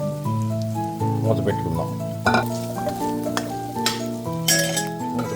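Prawns stirred into frying onion and ginger-garlic paste for Andhra-style gongura prawns: a steady sizzle with scraping stirs and clatter over background music, with a voice speaking briefly.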